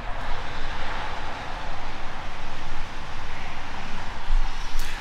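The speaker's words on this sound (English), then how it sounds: "So if you would please excuse the traffic noise" Highway traffic on I-70 near Vail, Colorado, a continuous broad rushing hiss of passing vehicles that swells and fades in waves, heard from a short distance with no voices.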